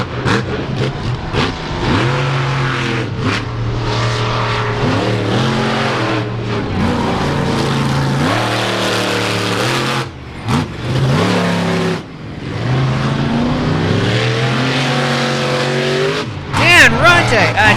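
The Chevy engine of the Bigfoot monster truck roars and revs repeatedly, rising and falling in pitch as it drives a track at the Indiana State Fairgrounds, with a commentator talking over it.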